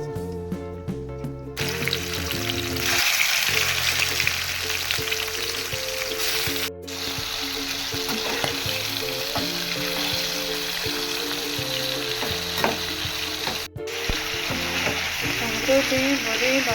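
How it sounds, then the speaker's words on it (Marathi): Prawns fry in hot oil with green racheado masala, giving a steady, close sizzle with occasional stirring strokes throughout, while soft background music runs underneath. "तेल घायला ती बरी हांव फ्राय करता सुंगटां."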